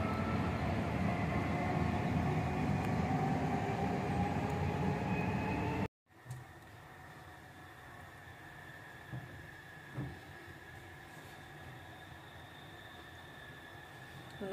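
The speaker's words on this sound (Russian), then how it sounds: "Там поезд поехал у нас." A train rumbles past steadily at a distance, then the sound cuts and a quieter, lingering rail drone continues with faint clanks, heard from a campfire outdoors in Spain.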